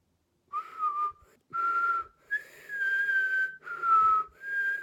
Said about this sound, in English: this is how you whistle normally